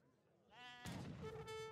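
A sheep bleats in Age of Empires III, a short wavering call rising from quiet and held for about a second, close and clear over faint game ambience.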